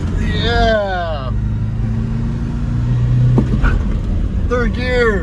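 A 1986 Ford F250 Super Cobra Jet with a stick shift rumbles steadily in third gear from inside the hot cab, its engine drone loud and continuous while people talk over it.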